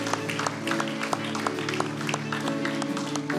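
Church congregation at a Baptism Sunday service keeps up scattered clapping, individual claps sounding over sustained background music and a low murmur.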